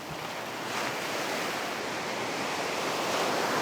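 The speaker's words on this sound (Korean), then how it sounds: "큰 파도가 빨리 깨지면서 하얀 거품을 길게 뿜어냅니다." Large ocean waves breaking quickly and spreading long white foam on the beach at Yangyang, Korea: a steady, loud, broad roar of surf with wind, swelling slightly as it goes on.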